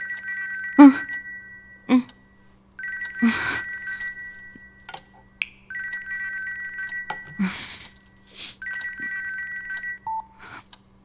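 Telephone ringing with an incoming call from a wife, repeated bursts of a bright electronic ring pattern separated by short pauses, mixed with clinks and thumps of movement nearby.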